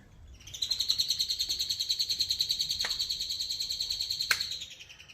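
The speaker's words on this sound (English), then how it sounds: "And we've been hearing birds in the walls." Birds chirping from inside a hotel room wall, a rapid steady run of high, bright tweets repeating evenly for several seconds, fairly faint and muffled, with a couple of sharp clicks.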